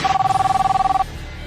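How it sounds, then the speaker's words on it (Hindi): Telephone at a police station ringing loud and close with a rapid, pulsing electronic trill for about a second, then cutting off into quiet room tone. "बरेली के थाना कोतवाली कैंट की फोन घनघनाई।"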